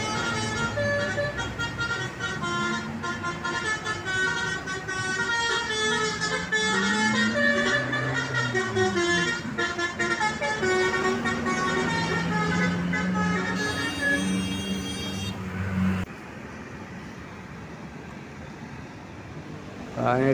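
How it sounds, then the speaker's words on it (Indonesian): A loud, multi-tone truck air horn blares in sustained bursts over rumbling roadside traffic, then cuts off as engine noise continues. "Terdengar basuni horn, teman-teman."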